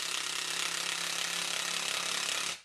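A power driver buzzes steadily while driving screws into a lathe faceplate, a loud close continuous grinding whir lasting a couple of seconds before stopping abruptly.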